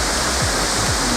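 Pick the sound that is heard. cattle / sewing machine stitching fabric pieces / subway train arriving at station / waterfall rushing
waterfall rushing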